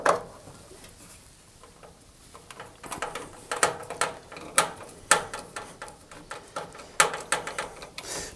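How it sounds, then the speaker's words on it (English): A screw is driven in to fix the front panel of a Rangemaster cooker during a hob ring regulator replacement, giving irregular close metallic ticks and clicks with small scraping sounds that get busier as it goes on. "With our new regulator loosely screwed in, I can then screw in the front panel"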